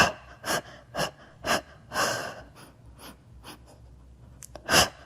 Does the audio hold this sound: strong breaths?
yes